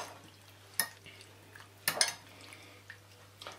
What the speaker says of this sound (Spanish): lo aliñamos, lo revolvemos bien para que coja bien el aliño